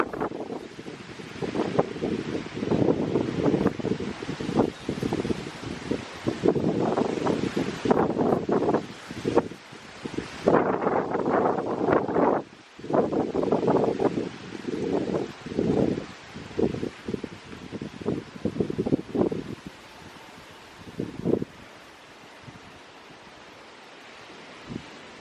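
Strong wind gusts rush through leaves in an outdoor garden orchard, loud and buffeting with heavy microphone wind noise in surging waves before easing to a calmer breeze near the end; no one speaks.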